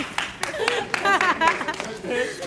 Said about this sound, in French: on applaudit pour lui, on applaudit pour lui.